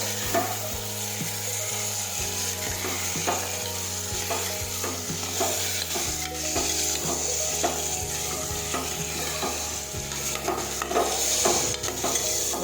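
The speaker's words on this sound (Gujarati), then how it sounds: "હવે સાતળી લઈશું ફરી પાછું." Steady sizzling and stirring as cluster beans and potatoes fry with turmeric, salt and spices in a pan, the sound continuous and close, with a spoon scraping now and then.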